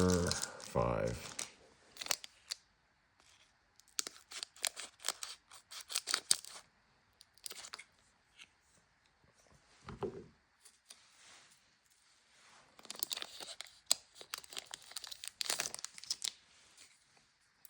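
A trading card booster pack is torn open and its foil wrapper crinkled and handled in close bursts of ripping and rustling, separated by quiet pauses.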